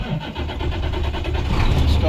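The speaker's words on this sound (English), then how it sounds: "the truck" A truck engine cranks and catches in the cab during a pre-trip inspection, then settles into a rough mid-pitched running rumble, close and loud, with a voice talking over it.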